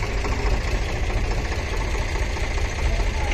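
An Eicher 485 tractor idles with a loaded trolley attached, a steady low diesel rumble with a slight knock that holds at an even, loud level close by throughout.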